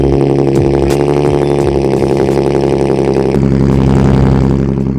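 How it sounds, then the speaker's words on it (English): A Nissan 370Z runs at a cold-start idle, with a loud, steady engine note that holds evenly throughout and no voices. "I haven't given you boys a cold start"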